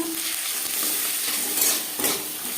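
Peas are stirred and fried in a hot pan with ginger paste, giving a soft, steady sizzle. A spoon scrapes against the pan in a few short strokes, close by, and there is no talking.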